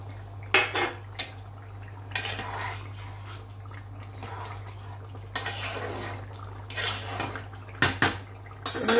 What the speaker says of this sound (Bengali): এবারে ভেজে রাখা মাছগুলোকে দিয়ে দিলাম।